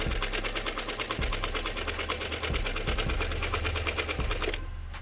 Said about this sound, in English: the sewing machine sound